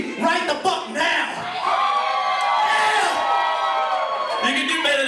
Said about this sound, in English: Cheer for me right the fuck now.